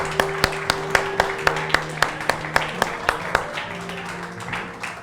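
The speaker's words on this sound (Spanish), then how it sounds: "Dele un fuerte aplauso al Señor" A church congregation claps together in a steady rhythmic beat, sharp unified claps spaced about half a second apart, with voices and a low sustained tone underneath.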